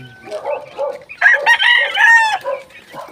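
Gamecock roosters crowing loudly nearby, a long strained cock-a-doodle-doo following softer clucks, with no talk over it.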